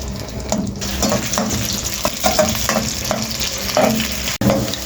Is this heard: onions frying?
yes